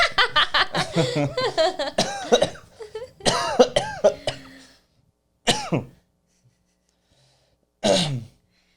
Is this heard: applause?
no